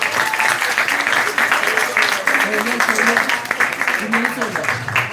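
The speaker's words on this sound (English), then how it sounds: "I want a big applause for them" A crowd at a model UN closing ceremony claps steadily for several seconds, a broad wash of applause with voices calling and chattering underneath.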